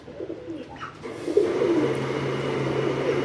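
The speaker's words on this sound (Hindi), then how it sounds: "कबूतर कबूतर ये बैठे हुए हैं" Soft, low pigeon coos repeat nearby, a steady throaty murmur rising after a quieter opening, with faint background noise and no speech.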